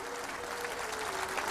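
An audience clapping at a spiritual gathering, a steady, dense burst of many hands that stays even and moderately loud, with a faint sustained tone underneath.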